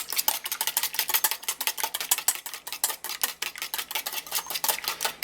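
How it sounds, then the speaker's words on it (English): Beaten eggs whisked rapidly with a whisk or fork in a bowl, a fast, steady rhythm of close, bright clicking strokes with no talking. "beat it with a whisk or a fork until it's well mixed and"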